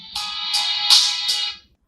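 A bright electronic ringtone on a Poco phone plays four short repeating chimes in quick succession, loud and clear, then stops.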